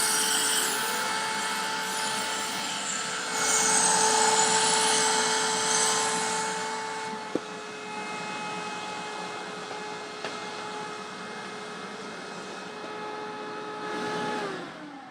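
A Hoover WindTunnel upright vacuum cleaner running with its turbo brush, a steady close whirring drone with a high motor whine that rises and eases slightly as it moves across the floor.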